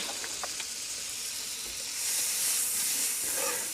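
Butter sizzles in a hot frying pan for mustard sirloin chops, a broad steady hiss with a few crackles early on that swells louder about halfway through.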